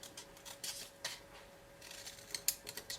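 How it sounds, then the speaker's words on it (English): Scissors snipping through paper or card while trimming a small hanging lip balm box, several short, crisp, fairly close cuts spaced irregularly over quiet background, no speech. "Let's grab my scissors."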